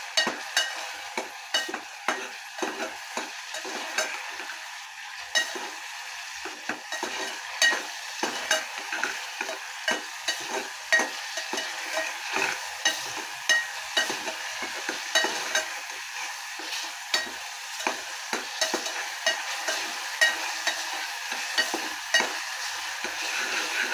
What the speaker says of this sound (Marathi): टोमॅटो होता, त्याची मी पेस्ट करून घातलेली आहे। ते छान मी तेलामध्ये परतून घेणार आहे।